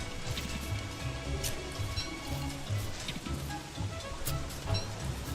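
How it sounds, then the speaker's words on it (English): Heavy rain pours steadily in the survival video game Don't Starve, a dense continuous hiss of drops spread across the whole stretch, with low rumbling bursts underneath and no one talking. "Yeah, like I'm getting rained on hard."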